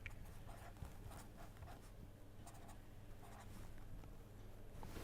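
Handwriting during a lecture on an exercise, a quiet continuous scratching and tapping of a pen on paper, faint and close, with no talk.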